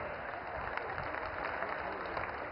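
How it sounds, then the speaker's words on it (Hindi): Audience applause welcoming dignitaries on stage at a hospital inauguration, a continuous even wash of clapping throughout, fairly distant and steady. "तालियों की गूंज के साथ एक बार फिर हम स्वागत करें"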